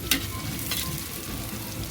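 Ginger frying in a pan while duck is cooked, a close, steady sizzle with a couple of brief stirring scrapes.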